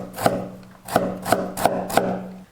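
A knife slices half a carrot into thin strips on a cutting board, five crisp chops spaced irregularly about a third to two-thirds of a second apart, close and clear with no talking.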